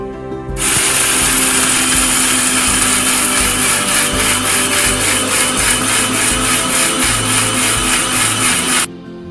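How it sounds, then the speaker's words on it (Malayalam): An electric mixer grinder powders a homemade Kerala Ayurvedic herbal medicine mix, running loud and close with a dense whirring roar for about eight seconds before stopping abruptly, with no talking. "സോ നമ്മളിത് മിക്സിയിലോട്ട് പകർത്തി ഇനി നമുക്കത് പൊടിച്ചെടുക്കാം"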